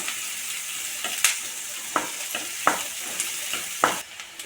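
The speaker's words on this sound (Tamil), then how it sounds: "இப்போ இதில் வெங்காயம் சேர்த்துருவோம் வெங்காயம் நல்லா வதங்கட்டுங்க" Sliced onions sauté in a hot pan for an okra and egg masala, giving a steady close sizzle broken by a handful of sharp spoon-scrape stirs at irregular intervals.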